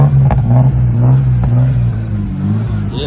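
Lada 2106 fitted with a BMW E34 engine and straight-through exhaust, a loud, close rumbling idle with short blips of revving, and people talking nearby.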